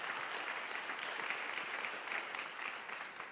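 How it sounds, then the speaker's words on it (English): An audience at a conference forum applauds the presenting sponsor, a dense, even wash of many hands clapping that holds steady for several seconds, heard at a moderate distance with no voices over it. "let's have a round of applause for our presenting sponsor"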